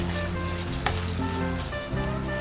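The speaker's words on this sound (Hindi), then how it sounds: "ऑयल हमारा गर्म हो गया हल्का सा। ये देखिए चिकन डालेंगे 3 से 4 बोटी के करीब" Boneless chicken pieces sizzle in hot oil in a pan, a dense continuous frying hiss heard close up with a brief clatter partway through and no talking.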